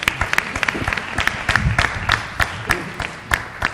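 Sparse applause from a small audience at an annual lecture, distinct individual claps at an uneven rhythm over a murmur of voices.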